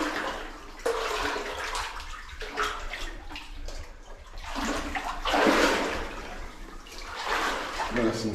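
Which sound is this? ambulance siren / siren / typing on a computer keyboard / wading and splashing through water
wading and splashing through water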